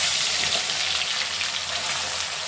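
Lentils tempering in hot oil give off a steady, close, hissing sizzle with fine popping spread through it. It stays at an even loudness from start to finish.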